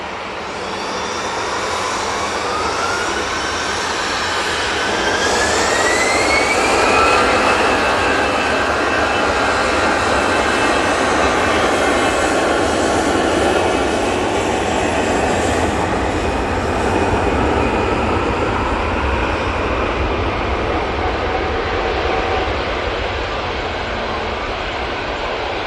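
An easyJet jet airliner rotates and takes off at Manchester Airport, a loud continuous engine roar with a rising whine that holds steady for nearly half a minute.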